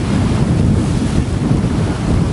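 Sea waves break continuously in strong wind at a fishing spot, a loud, steady roar of surf and wind buffeting with no distinct pauses.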